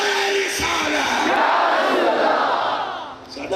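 A large crowd roars a loud, sustained shouted response to a religious slogan call at a gathering, the massed voices filling the space without pause.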